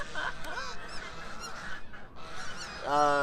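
Ducks by the river in Heidelberg, Germany, honking excitedly: a run of nasal honks and squawks close by, ending in a louder, more insistent burst of calls.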